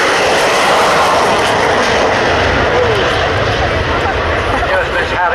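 Harrier Mark 5 jet aircraft at an air show, a loud continuous roaring engine that stays near and steady throughout, with a commentator talking over it.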